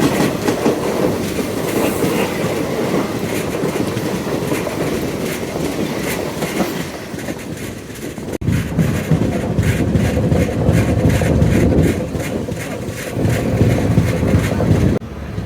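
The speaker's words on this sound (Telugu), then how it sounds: "పూరి తిరుపతి, అదే తిరుపతి నుంచి పూరికి వెళ్ళే ఎక్స్ప్రెస్ అండి." The Puri–Tirupati express rolls along the rails with a steady, loud rumble and a continuous rhythmic clickety-clack of wheels, with wind buffeting the microphone throughout.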